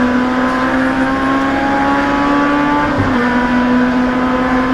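Race cars in a 2018 MCS round 2 race hold a steady engine drone while accelerating toward turn 1, with a brief shift in pitch midway as a car drifts in, loud and continuous.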